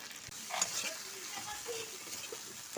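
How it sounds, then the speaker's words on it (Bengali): Spice paste of ginger, coriander, cumin, chili and turmeric sizzling in oil in a pan, with a soft steady fry and a spoon scraping and stirring close by. "মশলাটা একটু ভালো করে কষিয়ে নেব।"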